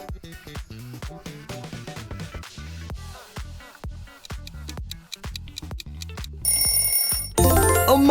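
Film audio logo for Inside Out: dense, layered orchestral music with rhythmic low hits building up, then bright sustained high tones and a swelling, loud finish, with no talking.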